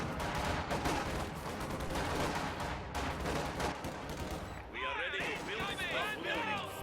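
An MG42 machine gun fires at a flamethrower squad in a video game. Rapid bursts of gunfire and impacts sit under a commentator's continuous talk, with some crashing effects near the end.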